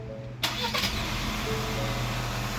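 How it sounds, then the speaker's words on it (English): A 2021 Ford Explorer with a 2.3L turbo engine cranks with a sharp burst and settles straight into a steady, close, even idle that runs on alone. "we're just gonna start it up and let it idle"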